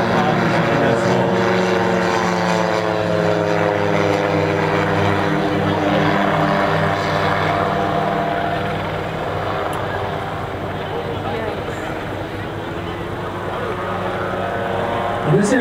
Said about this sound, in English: can see how tight he can turn that aircraft. It's a very maneuverable aircraft.